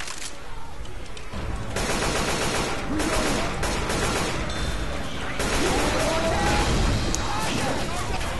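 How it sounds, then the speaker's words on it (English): Gunfire in the video game Left 4 Dead 2 during a survival round: dense, rapid bursts of automatic and single shots, loud and continuous, with players talking over the shooting. "I was shooting"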